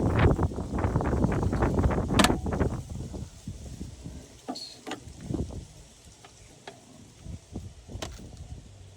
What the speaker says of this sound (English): It is mighty windy today.